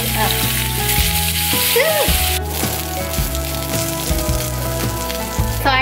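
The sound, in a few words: salmon frying skin side up in a pan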